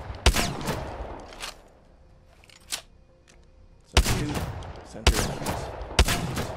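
Loud bursts of EVA-8 full-auto shotgun fire in Apex Legends, several separate sharp blasts with ringing tails and pauses between them, and a voice speaking briefly.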